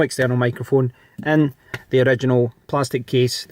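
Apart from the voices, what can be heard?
No distinct noise like a dog, phone or traffic.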